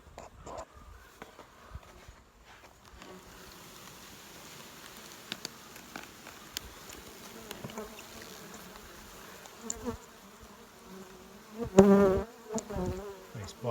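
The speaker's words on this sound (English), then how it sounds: "Nice box of bees." A dense, steady buzzing of many honey bees up close at a hive box, with occasional rustles and knocks and a louder burst of buzzing near the end.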